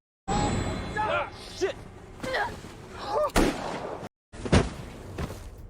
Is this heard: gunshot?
yes